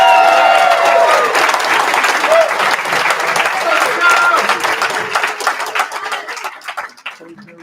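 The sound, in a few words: applause at a graduation ceremony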